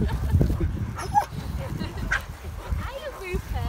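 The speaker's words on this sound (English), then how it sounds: "Look at that puppy, I want it." Siberian husky puppies and dogs in a park give short yips and barks amid excited whimpering, mixed with nearby voices talking and calling to the dogs.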